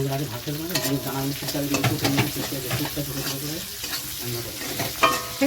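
Green chillies fry in oil with chopped garlic in a pan, a continuous close sizzle broken by repeated scraping and clinking stir strokes, with no talking.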